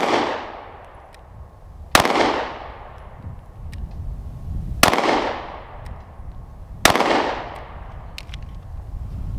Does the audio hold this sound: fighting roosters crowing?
no